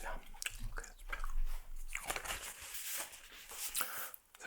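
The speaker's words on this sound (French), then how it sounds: "Ça te dérange pas que je mâche du chewing-gum?" Gum chewing close to the microphone in a quiet indoor drawing session: soft, wet crunching and smacking bites repeating unevenly throughout, with no talking.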